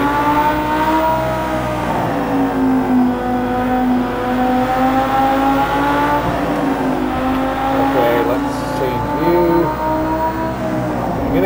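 Porsche Carrera GT engine driven at the Nürburgring in a racing simulation game, a steady high-pitched whine rising and falling with throttle as it revs through gears, continuous and close, with occasional faint talk underneath.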